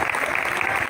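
A church congregation claps loudly for the Lord, a dense, steady burst of hands filling the room.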